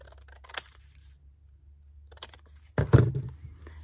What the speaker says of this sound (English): I'm taking up my big scissors. Just cutting out a label.